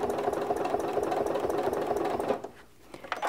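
A sewing machine stitches a quilt guided along a ruler, its steady motor hum and rapid needle clatter running continuously before dipping briefly near the end, then resuming.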